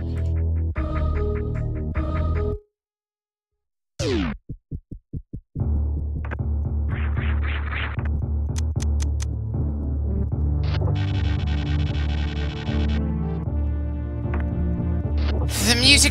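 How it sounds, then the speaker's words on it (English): Super Metroid background music, synthesized game tones and sustained chords that cut out briefly, return as a few stuttering pulses, then swell into a fuller continuous passage, loud and with no talk. "The music might sound relatively triumphant out here"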